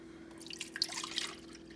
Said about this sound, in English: Just spilled water.